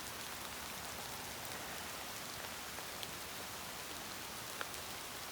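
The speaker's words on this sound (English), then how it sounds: "when you could take advantage of being out in the rain" Steady rain falls over a Texas garden, a dense even hiss of drops on leaves and ground with a few sharper nearby splats, no voices.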